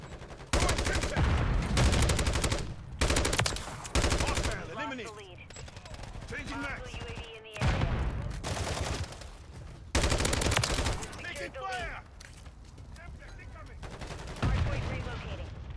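Heavy automatic gunfire fills a Call of Duty MW3 multiplayer match, with long sustained bursts and short pauses, loud and dense, while a voice talks quietly underneath.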